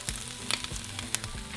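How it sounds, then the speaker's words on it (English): Garlic, serrano chiles and a small piece of onion sizzle on a hot surface as they roast for salsa, a steady crackle broken by sharp pops and spatters, close and with no talking. "So we're just going to roast everything"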